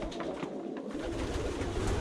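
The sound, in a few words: homing pigeon cooing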